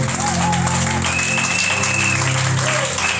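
A church congregation applauding the Holy Spirit, a loud, dense wash of clapping with cheers mixed in, sustained throughout.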